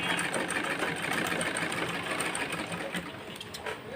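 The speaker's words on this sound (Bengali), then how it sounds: "এখন আরেকটি সেলাই করে দেখি।" A sewing machine stitching while its thread tension is adjusted, a steady fast whirring rattle throughout at moderate loudness, with no talking.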